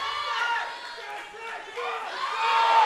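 Spectators cheer and shout together at a powerlifting meet, the APA Open Nationals, a steady mid-distance roar of voices that swells toward the end.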